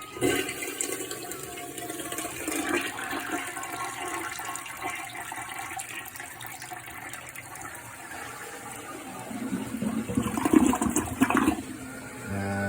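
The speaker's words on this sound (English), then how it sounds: "hopefully this thing flushes" A toilet flushes after a PVC flange is replaced, a steady rushing gush of water close by, swelling louder near the end as the bowl drains and refills, with no talk.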